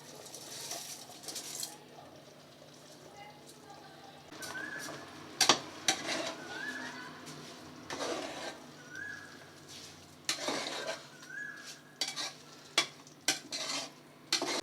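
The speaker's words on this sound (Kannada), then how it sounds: "ಅಕ್ಕಿ ಹಾಕೋತಾ ಇದ್ದೀನಿ" Rice being tipped into a pot while making mushroom biryani, with repeated sharp clinks and scrapes of metal utensils against the vessel and a soft rustling pour, heard close and without voices.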